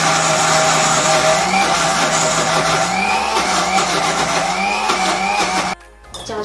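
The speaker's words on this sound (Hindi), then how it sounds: "इसे अब मैं ग्राइंड कर लूँ।" Electric mixer grinder whirring steadily as it grinds turmeric with water for food colouring, a loud continuous motor drone that cuts out near the end.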